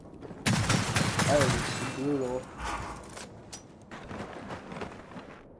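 Gunfire from a sniper-like gun in the video game Gears of War 4, with loud bursts early on under excited talk from players, then quieter shots and game noise as the talk continues.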